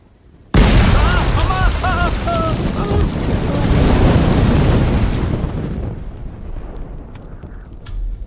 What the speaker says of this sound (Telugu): ఇప్పుడు ఇక్కడ బాంబు పేలింది కదా